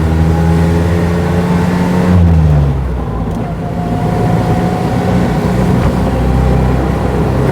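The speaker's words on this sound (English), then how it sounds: "It must be one of the smoothest straight twin engines I've ever encountered." An NSU Prinz 4 with a straight-twin engine drives along, heard from inside the car with a loud steady hum, a shift in pitch partway through as it changes gear, then a resumed even drone.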